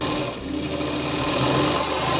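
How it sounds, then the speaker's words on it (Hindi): A sewing machine stitches fabric attached to a foam pad, sewing a seam around the edges. The needle runs in a steady, fast mechanical whir with a dense rhythmic chatter, close and loud, with no voices. "अब हमको लगाना है चारों तरफ से सिलाई और उसके बाद हमको बीच से भी सिलाई लगा लेनी है।"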